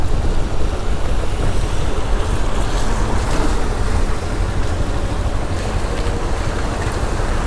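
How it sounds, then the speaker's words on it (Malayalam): Muddy river water swollen by heavy rain rushes hard near the Kallar bridge on the road to Munnar, a loud, continuous roar mixed with wind buffeting, with no speech. "വെള്ളം കലങ്ങി ഒഴുകണല്ലേ."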